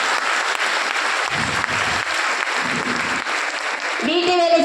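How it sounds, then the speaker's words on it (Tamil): Applause from an audience in a hall at a speech event rises into a dense, steady clatter of clapping that carries on throughout, loud and close, and a voice starts speaking over it near the end. "நம்ம ஒரு பலத்த கைத்தட்டல் கொடுக்கலாமா?"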